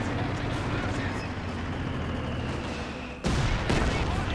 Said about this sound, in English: about to experience some rocket artillery